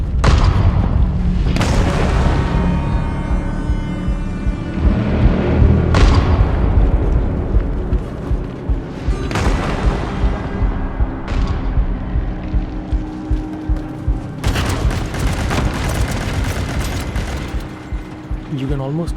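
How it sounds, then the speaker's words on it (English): Heavy booming blasts and gunfire from the video game Reanimal, with dense low rumbling and repeated explosive impacts that carry on at a loud, continuous level, with a sharper burst of rapid reports near the end. "You can almost feel the violence of gunshots and explosions in your chest"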